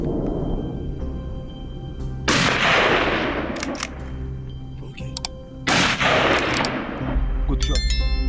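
Gunfire during a wild boar hunt in Texas: two loud, close shots ring out a few seconds apart, each with a long decaying echo, amid faint background noise and rustling.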